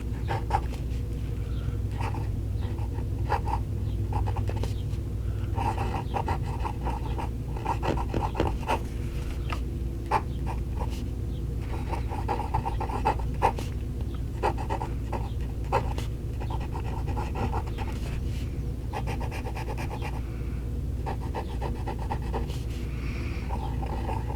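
Close, scratchy scraping of a fine fountain pen nib across paper in short irregular strokes, with small pauses between strokes.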